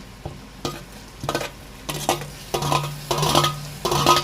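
Tomatoes are stirred into sautéed onions in a pan for chicken kulambu, with a series of loud, close scraping and clattering stirs over a sizzle that builds in rhythm toward the end, and no voices.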